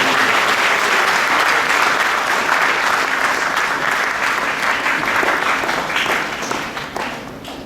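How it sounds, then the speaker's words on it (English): Audience applause at a science heritage anniversary lecture as a professor comes on stage, a full, dense burst of many hands that holds steady and then begins to thin and fade toward the end. "Please have a round of applause for Professor Parul."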